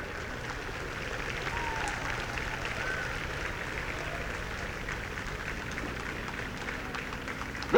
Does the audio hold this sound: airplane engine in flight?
no